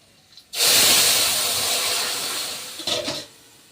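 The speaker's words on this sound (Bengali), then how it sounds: "এবার কিন্তু তরকারিটা তেলে দিয়ে দিচ্ছি" Cooked vegetable curry poured into hot oil erupts into a loud, sudden hissing sizzle that holds strong for a couple of seconds, then gradually fades, with a brief second burst near the end.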